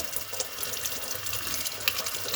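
Water runs from a tap into a sink at home, a steady, close, continuous rush with no voices.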